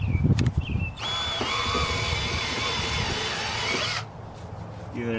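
A power tool chamfers the edge of a drum mower gear case, whining loudly and steadily for about three seconds up close, with brief clatter before and after.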